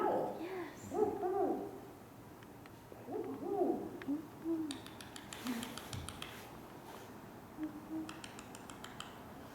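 A raven gives several low, hollow calls that resemble an owl's hoot, spaced out and moderately near, with some faint clicking and tapping in between.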